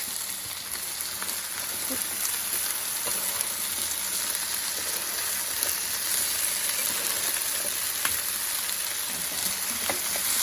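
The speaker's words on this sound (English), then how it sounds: "So I'm just getting the onions in there to cook down a little bit." Onions sizzling in a pan alongside chorizo and potatoes, a steady, dense frying hiss that stays loud and even throughout with occasional small pops and stirring scrapes.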